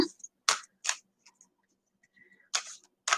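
Stiff oracle cards are overhand shuffled in a series of sharp, papery slaps and riffles, four or five distinct bursts separated by short pauses, close and crisp in a quiet room.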